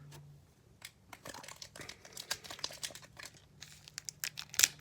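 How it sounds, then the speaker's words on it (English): Foil wrapper of a 2019 Donruss Optic football trading card pack being torn open, close up, with irregular crinkling and ripping bursts that build toward a sharper tear near the end, alone without talk. "I gotta get better at opening these packs like you guys can. I can't rip into them that well."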